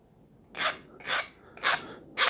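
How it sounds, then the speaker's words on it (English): A hand file rasps across soft steel in four evenly spaced, bright strokes, each a short scraping burst close up with quiet pauses between. "Maybe just clean this up a little bit with a file."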